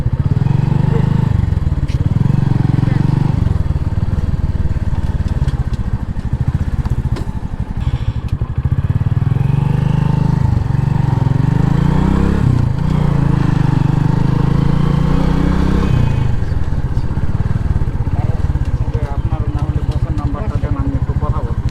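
A motorcycle engine runs steadily while the bike is parked at a roadside parking spot, with the low engine drone holding continuous and fairly loud throughout and voices talking over it.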